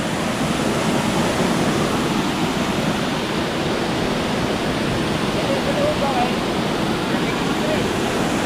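A countryside waterfall pours steadily with dense, continuous rushing water, close and loud and unbroken, with no voices standing out above it.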